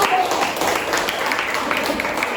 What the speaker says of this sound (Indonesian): Beri tepuk tangan buat Mbak Ayu.